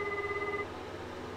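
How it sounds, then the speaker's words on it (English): Phone ringing in a Jujutsu Kaisen anime episode, a short electronic tone sounding for under a second before cutting off into a steady background hum, with no voices. "Why don't you answer your phone, Fushiguro?"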